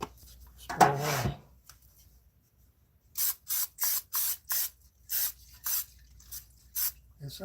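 Grease spray on a cookie sheet for oatmeal cookies comes as a run of about nine short, even hissing bursts, close and fairly quiet, after a brief bit of talking at the start.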